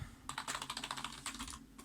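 Fast, light keystrokes on a computer keyboard clatter in a quiet room, a steady run of close, soft clicks with no talking.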